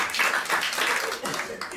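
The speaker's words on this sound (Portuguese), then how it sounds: "uma grande salva para palmas para ela" An audience at a stand-up comedy gala applauds in a steady, dense wash of clapping that holds close and fairly loud throughout, dipping slightly near the end.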